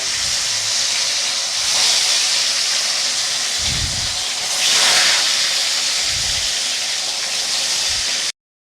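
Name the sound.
fish frying in hot oil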